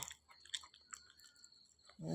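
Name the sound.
gnawing, chewing sound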